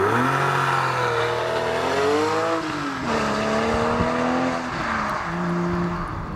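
A 2013 Porsche 911 Carrera 4S with a 7-speed manual revs loudly and continuously, its engine pitch rising and falling through gear changes before settling into a steadier drone.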